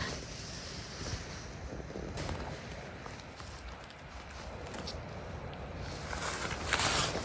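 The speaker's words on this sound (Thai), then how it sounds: "เสียงน้ำตกค่ะ" A rain-swollen waterfall roars steadily with gusty wind buffeting the microphone, a continuous broad wash of noise.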